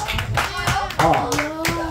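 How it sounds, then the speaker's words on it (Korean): Brief applause from a church congregation during a worship service, with clapping heard under a speaking voice over a short stretch. "우리 박수 한번 쳐주세요."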